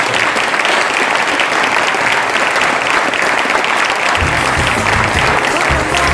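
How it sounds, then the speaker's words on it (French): At a New Year's wishes ceremony in Baisieux, the audience gives the librarians warm, sustained applause, a loud, dense roar of clapping that carries on throughout, with some low thumping rumble joining near the end. "je vous demande de les applaudir chaleureusement"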